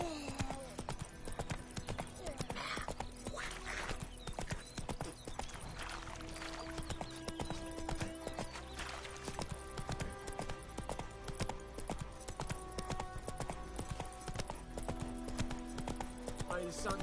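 Roach, the horse in The Witcher 3, gallops with quick, rhythmic hoofbeats that run steadily over game music, with a faint neigh now and then.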